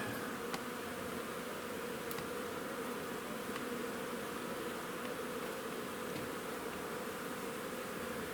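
Honeybees at a beehive give off a dense, steady buzzing hum, close and even throughout, with no talk and only faint brief ticks over the drone.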